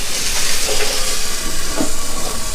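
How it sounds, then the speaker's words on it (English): Burgers steam under an upturned 9x13 pan on a Weber grill, giving a steady, loud hiss with faint crackles running throughout. "We're just gonna let it kind of steam up"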